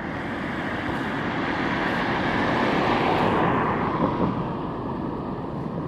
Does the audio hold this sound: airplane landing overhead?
yes